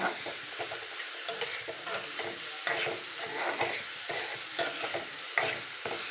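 Onion, tomato and chili fry in a pan for a paneer dish, giving a steady close sizzle with repeated scraping stirs and clattering utensil strokes throughout, no voices.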